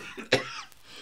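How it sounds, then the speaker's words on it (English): A single short, sharp cough from a person who has just been laughing, close and fairly quiet, with faint breathy noise after it. "I laughed so hard I coughed."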